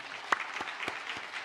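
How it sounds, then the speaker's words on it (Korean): A church congregation gives brief, sparse applause in welcome, a handful of separate claps spaced out and fairly faint. "우리 잠깐 일어나실 때 박수로 환영하겠습니다."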